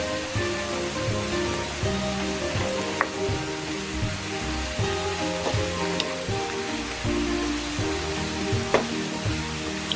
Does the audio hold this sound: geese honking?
no